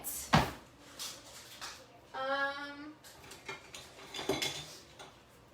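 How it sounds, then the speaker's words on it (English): A brown butter maple cookie pizza is worked loose from its baking pan: scattered close metallic scrapes, taps and clinks come in short bursts, with a brief voice-like hum midway. "I'm going to try and loosen this from the pan a little bit"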